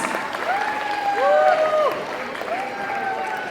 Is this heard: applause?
yes